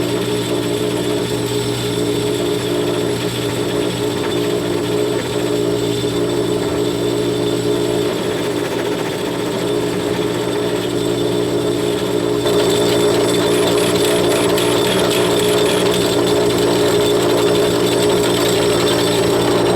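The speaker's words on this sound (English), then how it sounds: "We'll take this over on the lathe now and we'll clean the end up." A lathe cleans up the end of a shaft with a steady, loud mechanical hum and whir that runs unbroken, its texture shifting slightly partway through.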